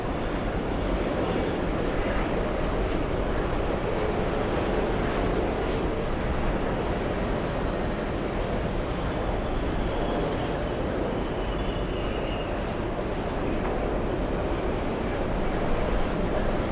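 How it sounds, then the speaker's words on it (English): A Delta Airlines Airbus A330 airliner at JFK airport produces a steady, loud jet engine roar that holds evenly throughout, a continuous broadband rumble with no breaks. "Let's go for the Delta Airlines A330."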